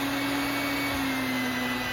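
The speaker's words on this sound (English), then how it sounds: "Mix on low speed." Electric mixer running on low speed through lemon blueberry cake batter, a steady unbroken motor whir with a constant hum, close and alone.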